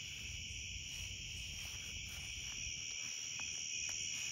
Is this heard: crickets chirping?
yes